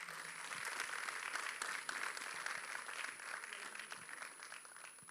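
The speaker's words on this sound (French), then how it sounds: "avec vos applaudissements, Monsieur Frédéric Théobald" Audience applause at the official presentation ceremony for the Tour de la Guadeloupe 2023 cycling race, a steady wash of many hands clapping throughout, moderately distant, with a faint high tone running over it.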